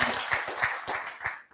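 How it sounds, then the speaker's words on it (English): Audience clapping at a school board meeting, a short burst of a few hands with distinct, slightly uneven claps, fairly close and fading out at the end. "You're going to start clapping again"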